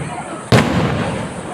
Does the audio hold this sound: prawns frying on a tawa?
no